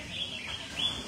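A caged songbird chirps in short, bright tweets at an outdoor bird-singing contest at a bird club, heard close against a steady hiss of background noise.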